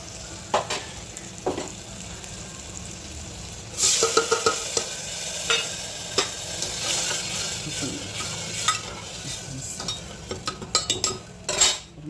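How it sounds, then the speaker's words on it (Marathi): Black lentils hit hot oil with roasted masala in a village-style curry, and a louder sizzle and crackle wells up partway through. Stirring scrapes and clinks of a metal spoon against the pan repeat up close. "तेल एकदम सुटला आता ह्यामध्ये आपण ही काळी डाळ घालायची"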